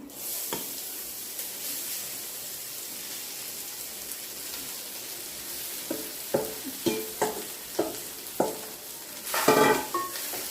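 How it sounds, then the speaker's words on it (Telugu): A spoon stirs and scrapes cooked rice into tempering in a hot pan for raw mango pulihora, with a soft sizzle, the strokes becoming steady and rhythmic toward the end. "అన్నం అంతా కలిసేటట్టు మొత్తం కలుపుకోవాలి"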